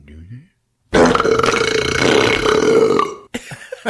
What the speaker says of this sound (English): You want me to belch and fart at the same time?